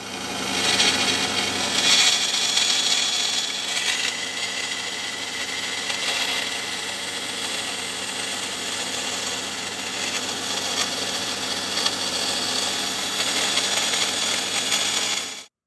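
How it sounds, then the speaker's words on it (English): A bandsaw cuts a 40% scale model plane wing strut, giving a continuous close whirring rasp of the blade through the strut, slightly louder at the start and the end, with no voices. "let's take this over to the bandsaw and make our cut"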